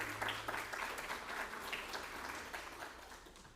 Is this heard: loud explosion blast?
no